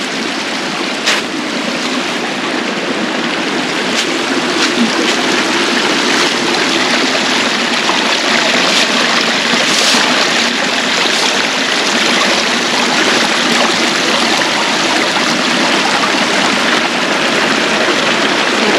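Steady, loud rushing water fills the whole stretch, a constant broadband roar like a waterfall pouring into a flowing stream, with no voices.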